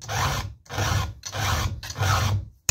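A hand file rasps across chainsaw teeth in four steady, even strokes with short pauses between, close and clear with no talking.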